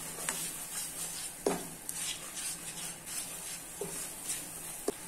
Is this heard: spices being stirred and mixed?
yes